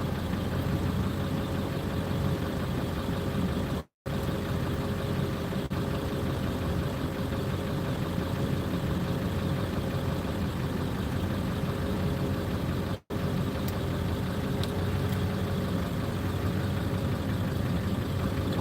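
A 1999 Ford F350 pickup with the 7.3 diesel engine idles steadily, a continuous low, throbbing clatter that stays even for the whole stretch, broken only by two very brief dropouts.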